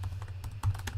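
A few quick keystrokes on a computer keyboard, clicking close by over a steady low hum, lasting about a second.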